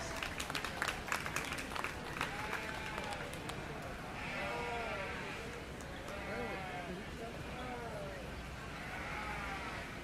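Crowd applause with scattered clapping builds early at a youth market lamb show, while sheep bleat repeatedly nearby and a voice talks over the noise.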